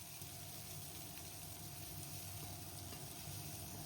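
Cauliflower pieces with added chopped onion frying in a pan, giving a steady, continuous sizzle close by with no talk over it.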